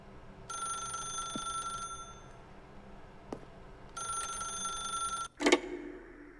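A telephone rings in The Stanley Parable: Ultra Deluxe, two bursts of steady electronic trilling separated by a pause, ending with a clunk as the receiver is picked up.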